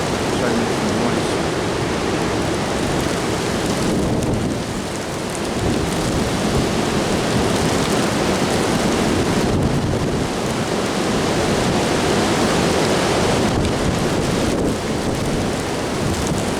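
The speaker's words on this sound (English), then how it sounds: "Now it's starting to rain." Strong gusting wind with rain during an intense windstorm of 50+ mph gusts, a dense, steady roar of broadband noise that swells and dips slightly throughout, loud and continuous with no clear voices.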